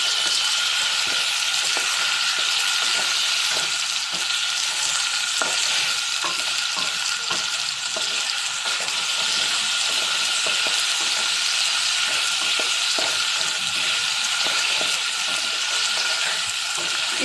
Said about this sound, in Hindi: इसको बस ऐसे फ्राई करना है तब जब तक कि इसका जो है ना थोड़ा थोड़ा ना कलर चेंज ना हो जाए